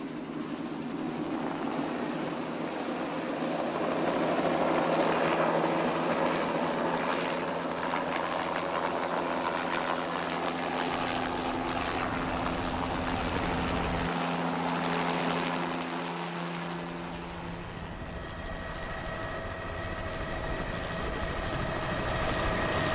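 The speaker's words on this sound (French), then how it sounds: "l'hélicoptère allait rompre la tranquillité des lieux" A helicopter's steady rotor and engine drone fills a jungle clearing, loud and continuous with a shifting tone as it nears and settles, with no talking.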